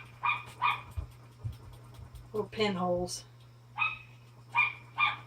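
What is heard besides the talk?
dog barking outside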